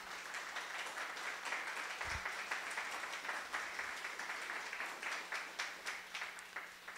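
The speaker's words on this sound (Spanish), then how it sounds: "Un aplauso al Espíritu Santo" Congregational applause during a Catholic preaching service, a continuous even wash of many hands clapping that holds steady at moderate loudness throughout.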